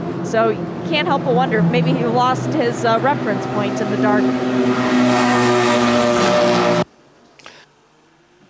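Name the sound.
race car driving past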